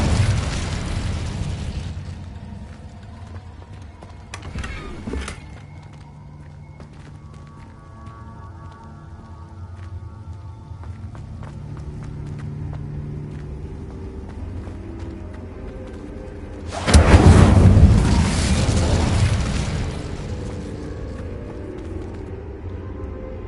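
A fire spell in Hogwarts Legacy bursts out as a loud whooshing blast late on, after softer crackles, thuds and game ambience, with no talking.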